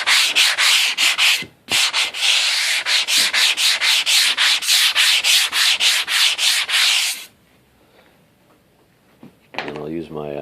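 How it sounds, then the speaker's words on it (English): A sanding sponge rubs over the painted wood face of a US-flag gun cabinet in loud, rapid back-and-forth strokes for about seven seconds, then stops. A voice speaks briefly near the end. "I use my sanding sponge to just kind of go over the face of it."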